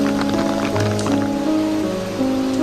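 Steady, heavy morning rain pours continuously in Chanderi, Madhya Pradesh, a dense wash of noise with a low hum running underneath.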